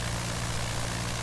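The engine of a Curtiss JN-4 Jenny biplane in Microsoft Flight Simulator drones at a steady idle, a low, continuous propeller hum with no voices.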